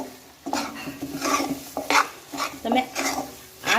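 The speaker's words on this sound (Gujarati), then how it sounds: "હવે આપણે થોડાક ધાણા નાખી દઈશું આમાં અને સરસ મિક્સ કરી લઈશું" A spoon scrapes and stirs corn chevdo with fresh coriander in a pan, giving repeated close, irregular scraping strokes with faint clinks against the metal.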